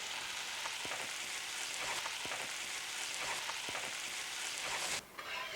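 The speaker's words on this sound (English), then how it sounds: "Just going to place them in the pan with the butter. I'm just going to let them sear and get nice and golden brown." Frozen grit cakes searing in butter in a pan, a loud, dense, continuous sizzle and crackle close up that cuts off sharply near the end.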